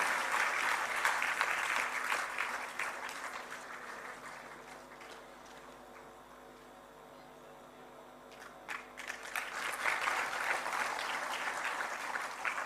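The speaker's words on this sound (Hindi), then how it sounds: "आपकी तालियों में तो पूरा जोश होना चाहिए" An audience applauds at a ceremony honouring meritorious students, attended by the governor and chief minister: a dense, steady clapping of a large crowd that fades to a lull midway, then swells again into loud, sustained applause.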